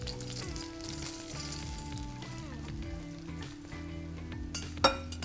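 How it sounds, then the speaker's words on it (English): Hot oil sizzling in a pan as bowl ingredients are poured in, a steady crackling hiss with tonal clinks and a couple of sharp knocks near the end. "your oil should start sizzling together the rest of the ingredients that are collected in your bowl"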